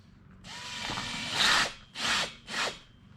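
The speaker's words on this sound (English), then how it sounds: "Then attach your drill." A power drill whirs steadily up close, then surges louder and cuts off in two shorter bursts, grinding against wood, while working on a Yamaha XS650 motorcycle cylinder head.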